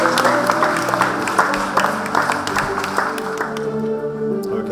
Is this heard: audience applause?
yes